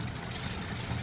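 A 1936 Rolls-Royce 20/25 straight-six idling, a quiet, even low rumble that stays steady and close throughout.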